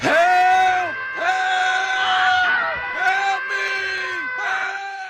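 Enemies in the video game Kenshi screaming in a series of long, loud, drawn-out wails, four or five overlapping cries in a row, close and harsh, with no talk over them.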